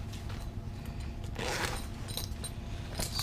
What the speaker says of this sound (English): So it does work, it does zip on.